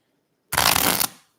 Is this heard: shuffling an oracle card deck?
yes